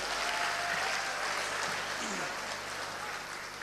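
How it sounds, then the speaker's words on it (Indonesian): Applause for English Massive at an awards night in Kediri, a continuous wash of clapping from a large crowd, fairly distant and even, with faint voices mixed beneath. "Saya minta tepuk tangan untuk English Massive."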